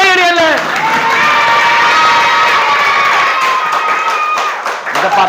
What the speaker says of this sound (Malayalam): കൊടുക്കണ കയ്യടിയല്ലേ?